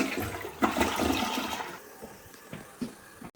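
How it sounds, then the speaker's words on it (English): A toilet flushes during a plumbing leak test after a repair, a rushing gush of water that swirls and drains for a few seconds, then tapers into quieter gurgles and trickling as the bowl refills. "let's do a little bit of flushing tests to see if there's any leaks we see. So here we go. Flushing here."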